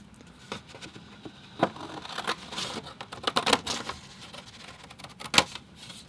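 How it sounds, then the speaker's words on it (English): Scissors trim a sheet of 11 by 14 watercolor card paper in half, giving a run of close, crisp snips and rustling paper crinkles with a few louder cuts. "I'm going to have my scissors here. I'll just trim this down halfway."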